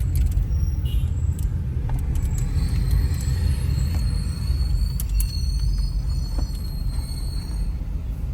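A construction truck rolls along a small dirt access road beside a coastal highway project near San Juan del Sur, Nicaragua, its steady low engine rumble continuous and fairly close for the whole stretch, with no talking.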